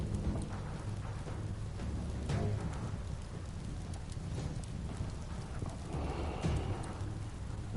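Steady rain falling across a landscape in the video game Biomutant, a continuous close hiss with low rumbling beneath and occasional brighter splashes, no voices.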